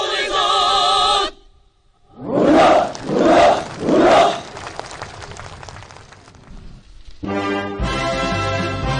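A massed crowd of Nampo shipyard workers roars three powerful slogan shouts in unison at an outdoor rally, each swelling and falling in turn, then trailing into scattered noise before band music resumes.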